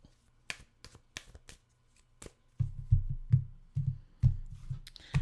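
Tarot cards shuffled by hand, a run of sharp riffling flicks giving way to denser, louder bursts of card slaps and rustles at close range, with no talking.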